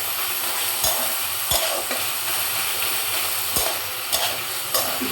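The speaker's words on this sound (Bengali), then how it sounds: "মশলাটা তেল ছাড়তে শুরু করছে" Masala with turmeric and cumin powder frying in oil in a pan, a steady close sizzle broken by several sharp scrapes and knocks of the spoon as it is stirred, with no talking.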